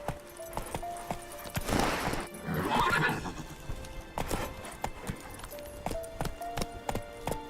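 A horse trots with steady clip-clop hoofbeats and lets out a clear neigh in the middle, heard fairly close with no talking.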